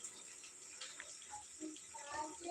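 Water pouring and splashing, a faint continuous hiss of running water with small splashy bursts growing slightly louder toward the end, heard from a little distance with no clear talk.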